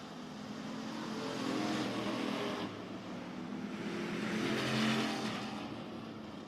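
Race cars lapping a short speedway oval at RPM Speedway during a KR Cup round, engine roar rising and falling in two passing swells at moderate distance, with no talk heard.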